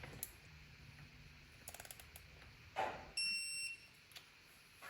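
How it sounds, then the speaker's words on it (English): A torque wrench tightens a transfer case plug on a Porsche Cayenne 958, giving a few quiet ratcheting clicks followed by a short, sharp high-pitched click or tone, close and otherwise quiet. "We're gonna switch to the torque wrench."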